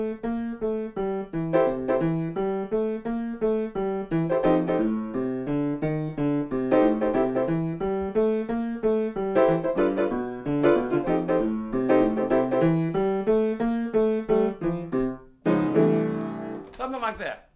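Piano played with both hands, a steady left-hand pattern under a right-hand melody, close and clear for most of the passage and ending in a brief jumble of notes.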